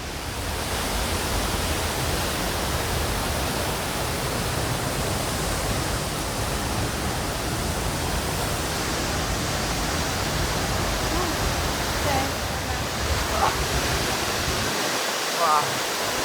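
Broad, steady rushing roar of a waterfall in Bali, continuous and close for the whole stretch, with a few faint higher sounds near the end and no clear talking over it.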